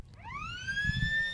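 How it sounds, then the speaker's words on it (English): A siren marks three-quarter time at a country football match at Dutton Park, a single rising electronic wail that climbs and then holds its pitch, heard at moderate distance over low crowd murmur. "As the siren goes for three-quarter time here at Dutton Park"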